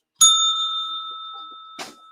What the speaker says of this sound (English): Is the bell irritating?